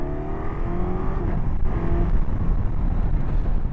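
A 2024 Suzuki GSX-S1000GX motorcycle accelerates hard on an open road, its engine note climbing in pitch through the gears over heavy wind roar, close and loud.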